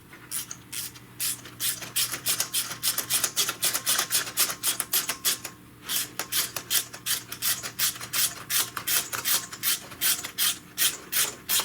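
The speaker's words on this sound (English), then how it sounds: "Make sure your extension stays nicely in the center of the sleeve when you're torquing them up." Ratchet wrench clicking steadily while torquing spark plugs on a 2013 Lincoln MKX tune-up; close, crisp repeated pawl clicks in quick rhythmic bursts with short pauses, no talking.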